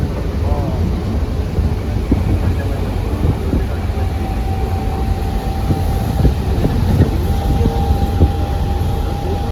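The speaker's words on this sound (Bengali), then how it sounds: "ট্রেন কিন্তু খুব স্পিড আছে" A fast-moving train near Kottayam in Kerala gives off a loud, steady rumble with rattling clatter and a faint sustained whine, heard continuously from on board.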